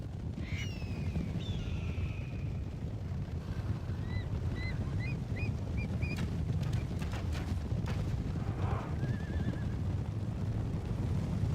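Horses of horse archers whinny several times in a Medieval II Total War battle running the Broken Crescent mod, their neighs rising over a constant low rumble of the battlefield.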